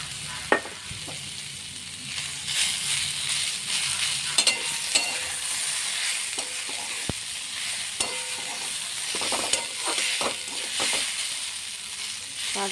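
Fish sizzles and fries in a pan with radish and green chilli, a steady hiss under scattered sharp clinks and scrapes of a stirring utensil.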